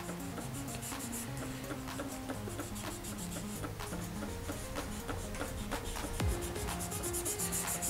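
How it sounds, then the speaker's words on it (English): Steady rhythmic rubbing of pencil graphite being blended across paper while shading a face drawing, close and continuous with quick repeated strokes and no voices. "So just doing a quick blending exercise here so that it looks a little more finer to the eye."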